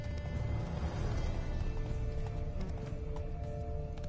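Spooked horses in The Witcher 3 video game, with a heavy rumble of hooves and clattering beneath a brief whinny, loud and close with steady galloping texture throughout.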